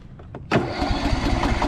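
A lawn tractor engine cranks with a few weak chugs, then catches into a brief rough, rumbling run close by, with no voices.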